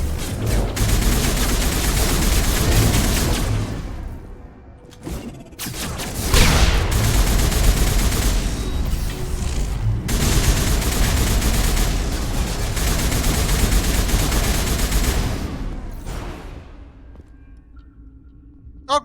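Sustained heavy gunfire in the Mass Effect video game, dense overlapping bursts roaring loud and near for long stretches with brief pauses, voices faintly mixed beneath the shooting.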